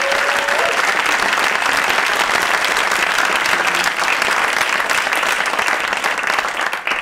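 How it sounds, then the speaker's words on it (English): An audience at a speech breaks into a loud, continuous round of applause that stays even for several seconds before tapering slightly at the end. "I think we should give him a round of applause"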